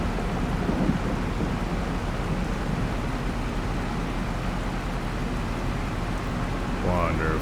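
Steady heavy rain pours down with a dense hiss and low rumbling throughout, the wash continuous and loud, with a brief voice near the end.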